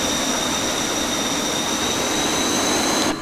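A Chengdu J-20 fighter jet's engine at full throttle in Microsoft Flight Simulator gives a loud, steady, unbroken roar with a high whine on top, cutting off abruptly at the end.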